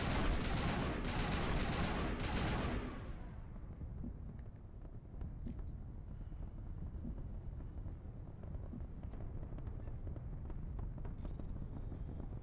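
Assault rifle fire in the Mass Effect video game, loud dense bursts of shots for the first few seconds, then a quieter rumbling roar with scattered faint pops.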